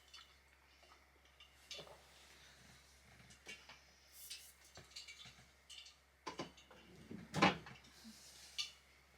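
A drawer is opened and closed, giving scattered wooden knocks and sliding rattles, with one loud bang near the end, in a quiet indoor room.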